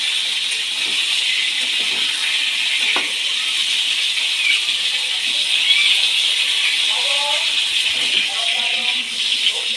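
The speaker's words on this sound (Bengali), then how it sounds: "পটলগুলো এইভাবে ছিটে ছিটে ভেজে নেবেন" Pointed gourd (potol) frying in oil gives a steady, loud hiss and sizzle that fills the whole time. A few faint clinks and a quiet voice sit under the frying.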